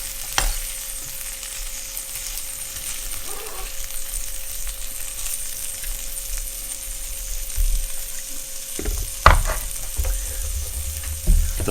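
Food frying and browning in a pan, a continuous sizzle with occasional stirring scrapes and a few sharper bursts near the end, close and alone without voices.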